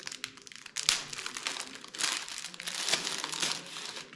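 Close, crisp crinkling and crackling of a plastic wrapper being pulled off a bundle of sticks in Central Vietnam, in rustling bursts that rise and fall without pause.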